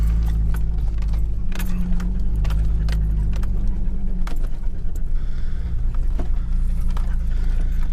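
Car driving slowly over a rocky dirt road past pinyon pines and yucca, steady close engine rumble under rattling, jangling knocks from the rough surface, with no talk.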